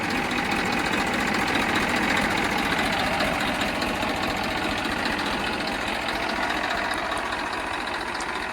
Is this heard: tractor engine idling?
yes